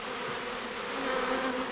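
Bees buzzing in a laboratory: a steady, dense insect drone that holds at an even level throughout and swells slightly toward the end, with no voices present.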